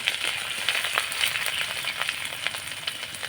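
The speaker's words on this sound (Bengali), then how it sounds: "একটু ফোড়নটা নাড়াচাড়া করে ভেজে নেব" Five-spice, dried chili and grated ginger frying in hot oil while being stirred, a dense close crackling sizzle with scattered spatter pops and scraping stirs, no voices.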